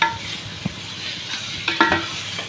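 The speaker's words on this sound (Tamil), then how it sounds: "இப்போ இந்த மாரி நல்லா கிண்டி விடலாம்." Chicken pieces being stirred into biryani masala in a pot, a low sizzle broken by a few spatula scrapes and clinks against the metal, close and moderately loud.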